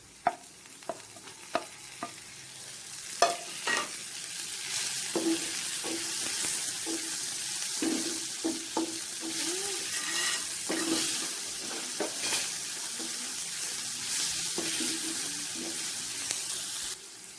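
Tomatoes frying with onions in a pan for an Afghani omelette, a continuous close sizzle broken by repeated sharp scrapes and clinks of a spoon stirring against the pan, with no talking.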